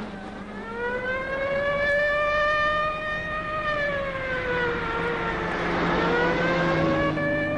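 A police car's engine runs and revs steadily for a chase scene in a 1979 Italian police film, a loud, continuous tone that rises and falls in pitch throughout.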